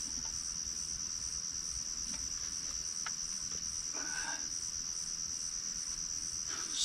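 Crickets chirp at night beside a river, a steady high-pitched trill running continuously at moderate distance, with a few faint scattered clicks and rustles underneath and no voices.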